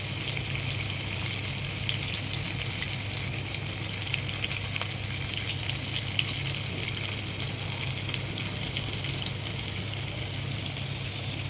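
Mustard seeds, cumin and broken dried red chillies fry in hot oil for gongura pachadi, giving a steady, close, continuous sizzle with faint crackle throughout and no talk.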